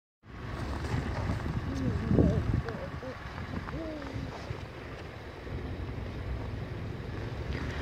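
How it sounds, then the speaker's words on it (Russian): Gusty wind roars against the microphone in a continuous low rush amid falling snow during a reindeer ride, with brief voices and faint tonal sounds rising through it. "сейчас холодно стало, так ветер дует"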